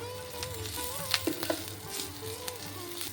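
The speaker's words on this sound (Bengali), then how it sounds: "পেঁয়াজগুলো একটু হালকা লাল করে ভেজে নেবো" Chopped onions fry with a pinch of salt, a close crackling sizzle with a few quick stirring scrapes, short and steady and free of talk.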